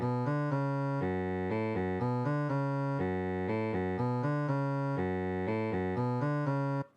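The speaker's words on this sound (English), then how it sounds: "this cello comes up underneath the French horn and sounds like this." Cello part rising underneath a French horn line in an orchestral arrangement, sustained layered bowed and brass tones swelling in held chords with a steady pulse, played alone without talk.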